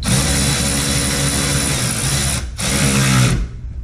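A power driver whirs steadily, tightening 10mm bolts on the front aero of a 2005 Chevy Corvette, loud and close with one brief pause before running again, no talk.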